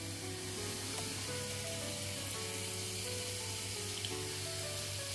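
Onion frying with garlic and ginger paste in a pan, stirred continuously, giving a steady close sizzle throughout, with soft scraping and a faint tonal hum underneath.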